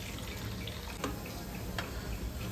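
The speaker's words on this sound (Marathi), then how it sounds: "तर अजून आपण थोडंसं पाणी टाकून घेऊया" Water poured from a tap into thick lentil stock for a Holi puran poli meal, a steady close splashing flow running through the whole stretch with a couple of brief brighter splashes.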